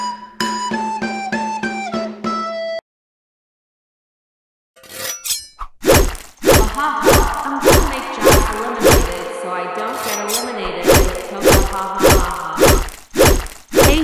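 Dalgona candy cookies cracking in a Squid Game video game, heard as a rapid series of loud, sharp snapping and crunching hits after a brief tonal jingle and a pause of silence.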